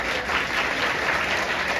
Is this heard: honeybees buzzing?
no